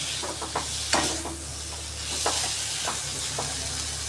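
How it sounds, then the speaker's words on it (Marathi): A spoon works mashed potato into the samosa filling in a hot pan. The stirring is steady and close, with soft scrapes and dull knocks over a constant sizzling hiss. "बटाटा मॅश करून घालून घेऊया त्याच्यामध्येच. सगळं छान असं मिक्स करून घेणार आहे आपण."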